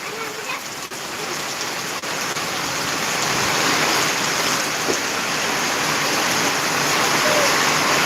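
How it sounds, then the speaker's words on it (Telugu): Heavy rain pours down in a loud, unbroken roar that swells slightly louder as it goes on. "వర్షం గట్టిగానే కొడుతుంది"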